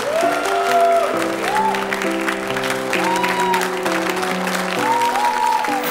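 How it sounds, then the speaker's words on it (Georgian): An audience on a TV singing show applauds, a sustained clapping wash sitting beneath sustained musical tones for several seconds. "და აპლოდისმენტებით გამოაცილოთ სერიდან."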